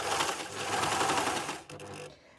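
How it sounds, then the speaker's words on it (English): Domestic sewing machine stitching a knitted cardigan cuff to its sleeve, a fast, close, continuous mechanical whirr for about a second and a half before it slows and stops. "I'll just sew up to the next pin"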